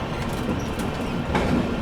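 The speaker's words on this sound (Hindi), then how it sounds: "और देखिए सामने से जा रही है आप लोगों की छत्तीसगढ़ एक्सप्रेस" Chhattisgarh Express rolls past close by, heard from aboard another train, a dense loud rumble with rattling wheel noise and a brief swell of rushing air toward the end.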